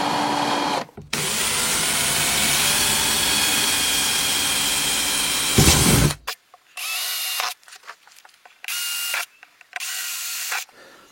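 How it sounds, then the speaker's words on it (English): A power drill bores holes in the centre of a gasket: a long, loud whining run followed by several short bursts of drilling separated by pauses, close to the microphone. "So just drill each one of those in the centre of the gasket."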